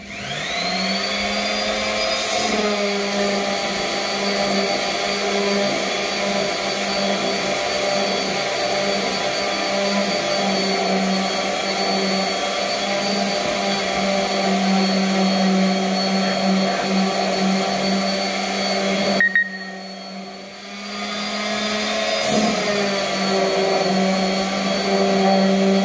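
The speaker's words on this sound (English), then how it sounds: "Now we're going to sand" A wooden walking stick is sanded with a powered sanding tool, producing a continuous loud motor whine with a gritty hiss. The whine briefly drops away around two-thirds through, then resumes steadily. There is no talking.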